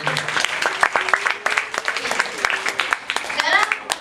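An audience claps for performers at a school event, a loose, uneven spread of individual hand claps with voices talking and calling out over them.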